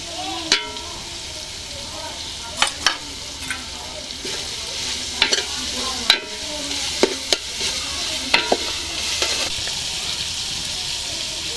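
Garlic paste sizzles in a hot pan while a spatula stirs it, a soft steady fry punctuated by a dozen or so sharp scraping clacks at an uneven rhythm.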